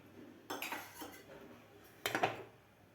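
A utensil spreads a spoonful of oil across a frying pan used for an egg Maggi paratha, giving two short bursts of scraping and clinking against the pan over quiet background.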